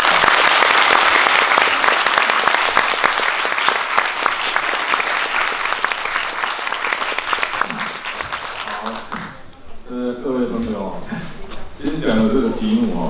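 A lecture audience bursts into loud, sustained applause to welcome the Taipei mayor before his talk on city governance; the clapping fades after about nine seconds and a voice begins speaking.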